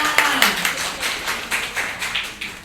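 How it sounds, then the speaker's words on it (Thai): Audience clapping welcomes a guest at a Thai event, a moderate burst of many hands with rhythmic peaks that carries on steadily under a faint voice at the start. "ขอเสียงปรบมือต้อนรับคุณเบียร์ค่ะ"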